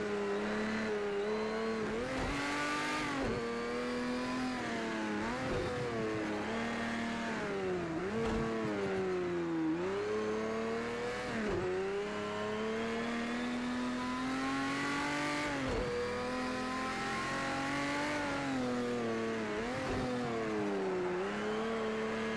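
Porsche 917K race car in Project CARS 2 lapping the Nordschleife, its engine droning loud and continuous with repeated rev rises and drops through gear changes, no talk.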